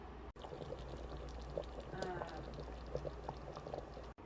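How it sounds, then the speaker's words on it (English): Japanese chicken curry with soup-like liquid bubbling on the sauté setting of an Instant Pot, soft steady gurgling and popping heard close but faint, with quiet background hum and no talk. "now just turn it on to saute, and I'm going to let that simmer for a little bit"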